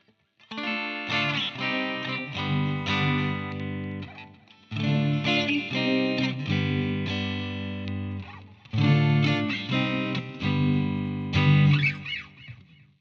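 Electric guitar chords ring out on a restored Korean Squier Stratocaster through the bridge pickup, with a handful of strummed chords sustaining and decaying in separate phrases, clean to slightly driven, with no talk.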